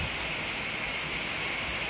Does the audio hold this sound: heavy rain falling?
yes